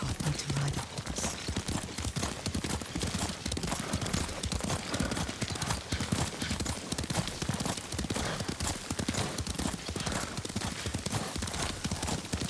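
Horse hooves clip-clopping at a riding pace in the video game Ghost of Tsushima, set in feudal Japan, a dense continuous rhythm that carries through the whole stretch, with faint voices mixed under it.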